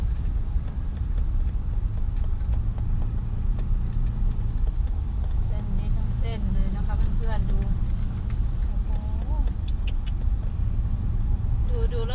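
Steady, loud car engine and road rumble from inside a vehicle driving slowly through floodwater on a partly unfinished road, with someone talking over it throughout.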